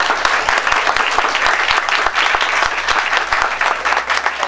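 An audience at a faculty of biology forum applauds a former faculty director with vigorous, continuous clapping, close and loud, a few individual claps standing out within the dense patter.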